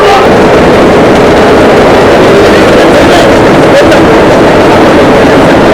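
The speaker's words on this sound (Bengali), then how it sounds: "দেখুন এই লঞ্চগুলো ছেড়ে যাচ্ছে ঢাকা, বরিশাল, ঢাকা।" Loud, continuous rumble of passenger launch boats pulling away from Sadarghat, Dhaka, during the Eid holiday rush, with engine drone and busy waterfront noise throughout.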